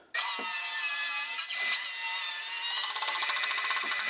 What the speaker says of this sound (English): So I'm going to get that blade put in there, get the rest of this cut up